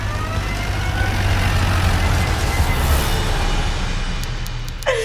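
A car driving fast gives a steady, loud roar of engine and road noise with a low rumble underneath, ending with a brief rising sweep.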